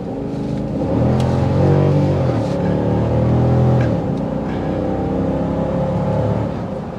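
A 2023 Dodge Durango R/T Blacktop engine pulls hard under full throttle, a loud, steady low drone that swells and rises in pitch over a few seconds before easing back, heard from inside the cabin with no talking.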